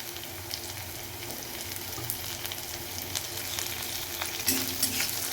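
Chopped green chilli sizzles in hot oil alongside garlic in a pan for chicken soup, a steady close frying crackle with small stirring bumps throughout and no talking.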